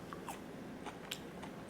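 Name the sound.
biting into crispy Cajun-style air fryer fries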